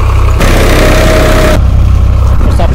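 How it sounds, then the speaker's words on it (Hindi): A tractor sowing seeds in a rocky new field, its engine a loud, steady close drone throughout with a rougher burst in the first half. "तो एक ट्रैक्टर बखरौनी कर रही है और एक ट्रैक्टर बोनी कर रही थी"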